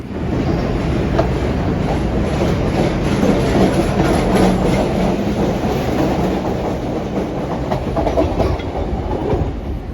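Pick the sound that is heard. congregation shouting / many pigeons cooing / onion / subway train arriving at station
subway train arriving at station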